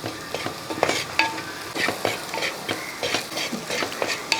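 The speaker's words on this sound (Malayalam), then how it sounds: "ഉപ്പൊടിയും കൂടെ ചേർത്തതിന് ശേഷം ഒന്ന് ഇളക്കി കൊടുത്ത് ഈ സവാളയുടെ കളറൊന്ന് മാറണം." Onions fry with salt in a pan for a Kerala bitter gourd curry: a close sizzle runs throughout while a spatula scrapes and clinks in a quick, irregular stirring rhythm.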